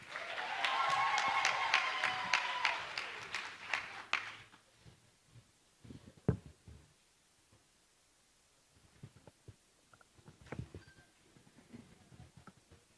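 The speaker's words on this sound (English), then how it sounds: "Give her a round of applause." Applause from an audience at a housing key-handover ceremony in Lufhereng, a dense burst of clapping over the first four seconds that quickly dies away to scattered claps and quiet room noise.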